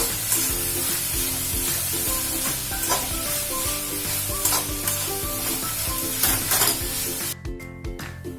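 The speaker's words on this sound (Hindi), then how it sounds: "थोड़ा हिलाते रहेंगे ताकि ये थोड़ा सा अच्छे से सूख जाए।" A coconut and jaggery mixture stirred in a pan, with a continuous close sizzle and regular scraping, clattering spoon strokes against the pan throughout, alone with no voices.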